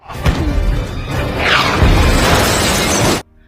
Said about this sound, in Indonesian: Di sini Han menembakkan peledak ke mobil Pedro.